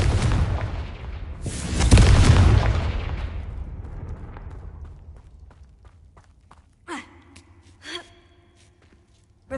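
Confringo spell explosion in the video game Hogwarts Legacy, a heavy booming blast that swells within the first seconds and rumbles away slowly, followed by a few brief sharp effect sounds.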